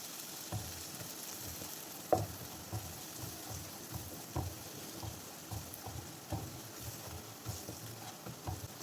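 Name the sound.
stirring turmeric, chili and coriander powder in pan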